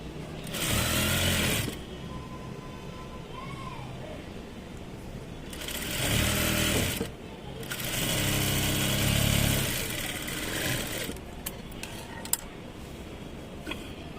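A sewing machine stitches a folded blouse hem in bursts of whirring, rattling motor noise, several runs separated by quieter pauses and fabric handling, at close range.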